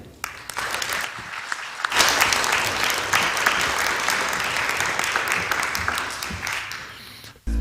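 An audience applauds warmly to welcome a reverend at a spiritual talk, steady dense clapping that swells after a couple of seconds and holds near and full before tapering off.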